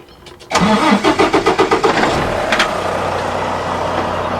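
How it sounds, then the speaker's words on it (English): A 2023 Volvo VNR truck's D13 diesel engine cranks with a rapid chugging rhythm, catches, and settles into a steady, loud idle. "we're just going to go ahead and start the truck, let it idle"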